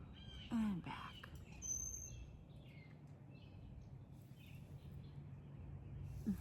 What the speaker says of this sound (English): We have the birds in the bird feeder